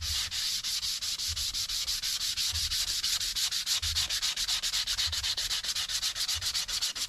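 Hand sanding sealer off the wooden body of a Les Paul Custom guitar kit, a steady close, rhythmic rasping of light back-and-forth strokes with a faint low thump on each pass, no voices.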